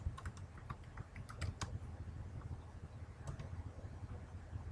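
Rapid, irregular clicks of typing on a computer keyboard at close range, with a low background hum throughout.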